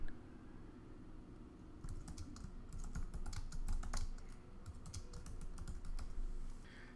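Fingers type on a computer keyboard, entering a title in a stretch of rapid, close key clicks over a low steady hum, with no talking.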